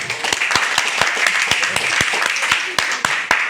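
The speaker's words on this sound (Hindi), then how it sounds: "बच्चों के लिए जोरदार तालियां।" Audience applause for children at a Hindi network marketing seminar, loud rapid clapping from a crowd with sharp individual claps ringing out over the dense patter, close and continuous.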